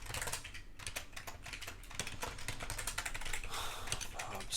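Rapid keystrokes on a computer keyboard while coding, a steady irregular clatter of close clicks running throughout with faint background noise.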